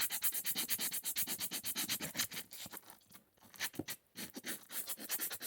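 A brake pad is rubbed back and forth on an abrasive surface to level it, giving a steady series of rhythmic scraping strokes up close, with a brief pause midway before the strokes resume.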